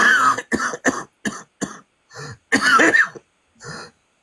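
A series of harsh coughs and throat-clearing bursts, close and loud, in short separated fits with brief pauses between them.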